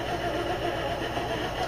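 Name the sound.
electric mixer mixing cake batter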